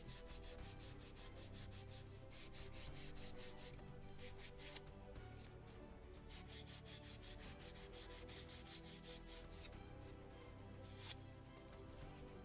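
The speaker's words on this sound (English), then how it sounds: "Polishing." Rhythmic rubbing strokes polish the wooden deck of a model kit of the 1776 gunboat Philadelphia, a faint, close, repeated swishing in quick back-and-forth bursts with short pauses.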